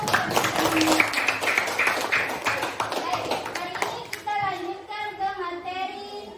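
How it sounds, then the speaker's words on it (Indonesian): Classroom of students clapping for a classmate at a junior high school, dense hand claps with children's voices mixed in, fading into softer chatter toward the end. "kita berikan aplaus untuk"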